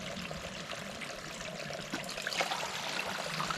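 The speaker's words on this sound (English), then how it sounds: "I'm topping off Gavin's Life Water 1 liter bottle" Spring water pours into a 1 liter Life Water bottle near the Appalachian Trail in the Great Smoky Mountains, a steady close trickle and gurgle that grows slightly fuller toward the end.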